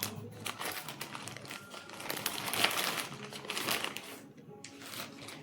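Crinkly plastic zip-lock packaging holding toe-separator socks, torn and handled up close: loud, continuous crackling and rustling with uneven bursts throughout.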